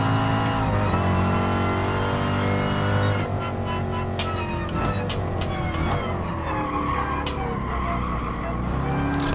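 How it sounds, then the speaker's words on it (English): A 1963 Corvette in Gran Turismo Sport at Autopolis, its engine roaring loud and steady while the tires squeal and slip under wheel spin with traction control off, the pitch rising and shifting through the run. "Trying to listen for that wheel spin."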